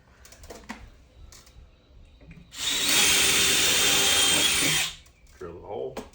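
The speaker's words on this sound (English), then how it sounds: "Drill the hole." A power drill bores a hole in wood for a lag bolt while a storage bracket is mounted in a garage. The motor whines loud and close for about two seconds, with softer handling noises before and after.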